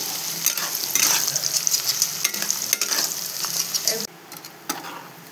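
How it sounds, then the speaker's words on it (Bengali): Oil sizzles and crackles steadily as onions fry for birista, with occasional stirring scrapes; the hiss drops abruptly near the end, then continues more quietly. "আমার পেঁয়াজগুলো এখন ভাজা হয়ে গেছে।"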